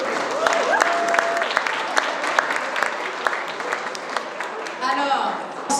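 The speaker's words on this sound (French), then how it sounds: "Une bonne main d'applaudissements ici pour notre ami et sur mes côtés." An audience applauds at a Black History Month launch ceremony, with dense, steady clapping and scattered louder claps. Voices can be heard among the crowd, and a voice rises over the applause near the end.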